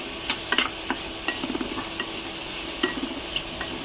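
Onions frying in a pan with a soft constant sizzle while a utensil stirs and clicks against the metal at irregular intervals.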